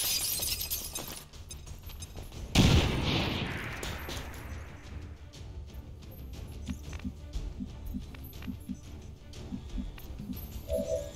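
A bomb blast in the video game XCOM Long War, a sharp shattering burst with debris and crackle about a third of the way in, followed by lingering rumble, scattered clicks and quieter game sounds.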